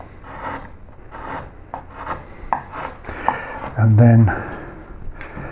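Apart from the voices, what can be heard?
carving wood with a flat gouge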